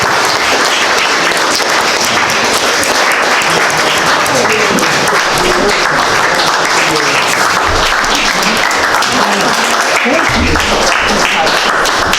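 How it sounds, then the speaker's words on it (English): A room of people gives sustained, dense applause at a Veterans Day program, the clapping loud and continuous throughout with faint voices mixed in. "Let's give Dale a round of applause"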